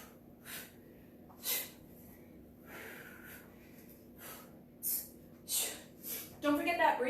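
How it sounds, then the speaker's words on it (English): Sharp, hissing exhales from a kickboxer throwing front kicks with the ball of the foot, a handful of short breathy bursts spaced a second or so apart, growing quicker and denser toward the end over a faint steady hum. "Those hissing exhales can be really helpful."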